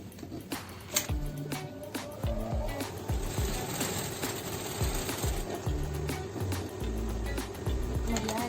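A sewing machine stitches the shoulder seam of a small Barbie-sized traditional Maluku dress, running in short bursts with rhythmic mechanical whirring and clatter, pausing and restarting close by.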